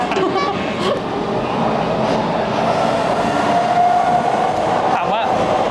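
Los Angeles subway train in motion, with a continuous rumbling roar of wheels on rails and a brief metallic squeal, heard from inside a carriage while passengers talk.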